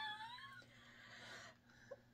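A long-bodied cat gives a quiet, drawn-out meow with a falling, wavering tone at the start, followed by faint rustling and a soft brief squeak near the end.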